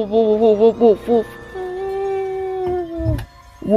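A voice imitates a dog, first with a few short yips and barks, then one long, wavering, falling howl. The sound is loud and close.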